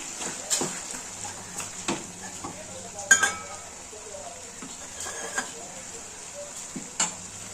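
Mutton masala sautéing in a pan for a home-style mutton gravy: a soft, steady sizzle with scattered stirring scrapes and clinks of a spoon against the pan, and a few brief voices in the background.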